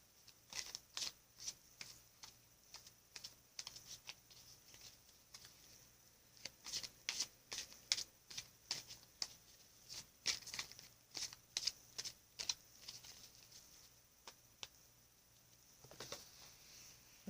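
Journey of Love oracle card deck being shuffled, with quiet repeated papery riffles and card slaps in irregular bursts throughout, close and soft, with no talk.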